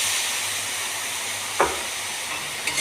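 Washed taro stolons in spiced oil give a steady, fairly faint hiss and sizzle, broken by a single short clack from a utensil.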